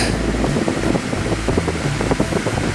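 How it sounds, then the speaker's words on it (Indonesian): An electric fan runs at its lowest speed setting, giving a steady, close whooshing of moving air with a faint low motor rumble throughout. "speed 1 dari kipas angin"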